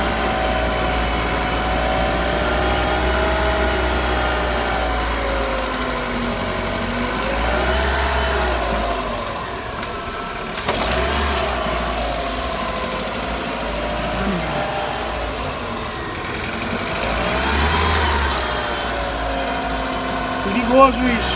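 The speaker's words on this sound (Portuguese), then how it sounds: "O carro está suspenso, o motor está ligado, o câmbio está tracionado. Por isso, as rodas estão girando." An automatic car's engine runs while the raised car sits on a lift with its wheels spinning, a steady mid-pitched hum that swells and eases in revs, with someone talking over it throughout.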